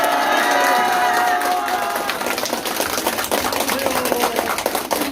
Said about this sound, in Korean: 우리 조원진 대표님께 큰 박수 한번 드리겠습니다